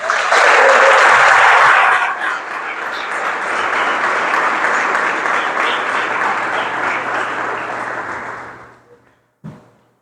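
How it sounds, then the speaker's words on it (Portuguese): A church congregation breaks into loud, dense applause that peaks at first, then continues steadily for several seconds before fading out, ending with a brief thump. "Dê uma salva de palmas para o Senhor."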